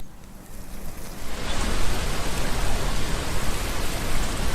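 Rain in the video game Umbrellas Wanted, starting as a softer hiss and swelling within a second or two into a dense, loud, steady downpour that keeps going with no voices.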